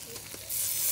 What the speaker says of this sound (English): Then the burgers go on.